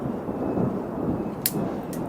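Low rumbling thunder from a summer thunderstorm rolls steadily through the whole stretch with light rain hiss, plus two brief sharp crackles near the end.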